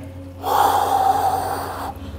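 One long, steady exhale through the mouth during a morning full-body yoga stretch, close and clear, swelling for about a second and a half before cutting off to quiet room tone.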